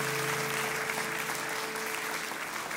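A church congregation applauding during a French-language sermon, a dense continuous wash of many hands clapping at steady volume throughout, with faint murmuring underneath.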